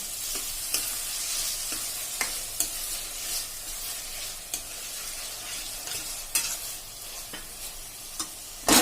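Onions and peas sauté in a pan for pav bhaji, a steady sizzle punctuated by repeated sharp spatula scrapes and taps at irregular intervals, close and clear.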